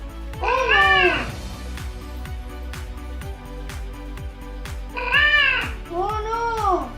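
Cartoon cat meows in a Scratch cat-and-mouse game, two clear bursts of several meows near the start and again near the end, over a steady rhythmic game music loop.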